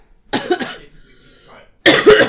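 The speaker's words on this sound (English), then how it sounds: "We're both still coughing well as well, which isn't great." Two separate bursts of coughing close to the microphone, a short pair of coughs followed by a quiet pause, then a louder, harsher cough.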